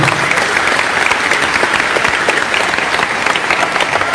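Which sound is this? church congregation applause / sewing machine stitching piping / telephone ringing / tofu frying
church congregation applause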